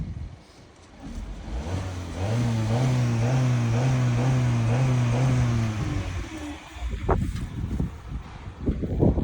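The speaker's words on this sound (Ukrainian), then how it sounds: "Ось, вихлоп працює, гарно вихлоп працює." Petrol/gas 1.2-litre engine of a 2010 Skoda Fabia idling and briefly revved, the steady hum rising and holding before dropping off, with wind buffeting the microphone near the exhaust.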